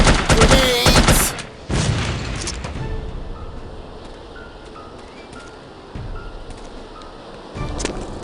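Grenade blasts and gunfire in the shooter game The Operative: No One Lives Forever, with a loud burst of shots and booms up front, then a lingering rumbling wash and further distant bangs.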